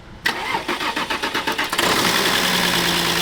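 An SUV imported from Germany cranks with a rapid rhythmic starter churn for about a second and a half, then catches and settles into a steady, loud, close idle.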